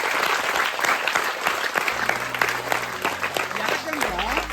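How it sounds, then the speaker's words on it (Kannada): Loud, dense clapping from a school audience fills the room, sustained throughout, with a voice speaking over it near the end. "ಅವ್ರಿಗೆ ಜೋರಾದ ಚಪ್ಪಾಳೆಯಿಂದ ಅಭಿನಂದನೆ ಸಲ್ಲಿಸೋಣ"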